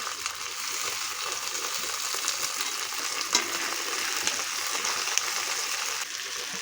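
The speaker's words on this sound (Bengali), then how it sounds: "পেঁয়াজটা লাল লাল হয়ে গেছে, লাল লাল করে ভাজা হয়ে গেছে" Onions fried to a reddish brown in a pan for a Bengali dal with green chilli and tomato, a steady soft sizzle with occasional stirring clicks, no voices.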